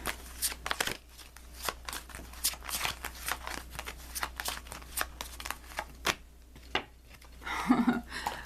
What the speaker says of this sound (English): I'm going to choose from this pile of cards